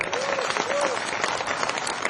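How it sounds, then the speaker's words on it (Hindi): Audience applause at a Hindi comic poetry gathering (hasya kavi sammelan), a dense, steady clapping from a crowd filling the whole stretch, with a brief whistle-like tone and faint voices mixed in. "अगर सुनने का मन हो तो मुझे ताली बजा के बता दें"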